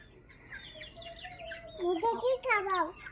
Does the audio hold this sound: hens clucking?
yes